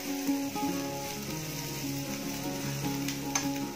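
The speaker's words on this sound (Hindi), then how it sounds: "ये हमारी वेजिटेबल्स हल्की हल्की फ्राई हो चुकी हैं" Vegetables with poppy seeds fry and sizzle in a pan while being stirred, giving a steady crackling hiss with occasional scraping, and soft music plays underneath.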